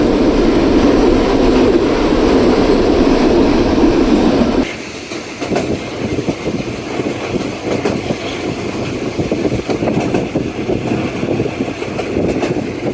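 Mianwali Express passenger train running on rails at about 50 under caution near the hills, a loud steady rumble that shifts abruptly partway through to a rattling clatter of wheels, with no voices.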